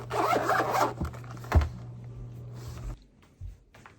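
A fabric zip-up seed keeper book is zipped, giving a long rasping zipper pull followed by a sharper tug and a shorter closing zip, close and fairly loud.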